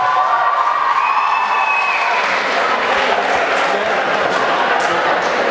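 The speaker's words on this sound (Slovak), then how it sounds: "to chce väčší potlesk" A crowd at an initiation event applauds and cheers with whoops and shouts, a dense, loud, steady roar of clapping and voices lasting several seconds.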